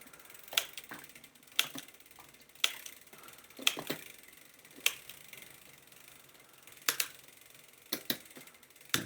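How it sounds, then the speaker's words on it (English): Mountain bike gear shifter clicking up through the gears one step at a time, a series of sharp, close mechanical clicks and ratchet sounds spaced about a second apart, alone without talk. "Make sure that I don't have to push the lever any further than just to where it clicks. And we'll continue to climb up."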